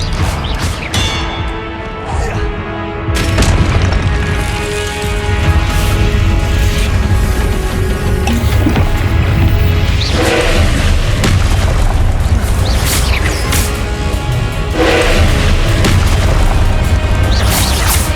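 Confringo fire spell explosions in the video game Hogwarts Legacy, loud booming blasts over continuous game music and combat noise, with heavy impacts recurring through the fight.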